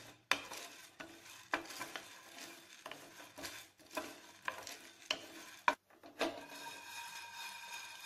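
Chana dal is stirred and dry-roasted in a pan with repeated scraping strokes and soft crackling. The sound is close and fairly quiet, with a steady rhythm of spoon sweeps.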